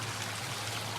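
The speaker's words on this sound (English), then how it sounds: "Because the water's running really nice." Water running steadily outdoors the day after Hurricane Helene, a constant hissing, rushing flow like a stream, moderately loud and even with no talk.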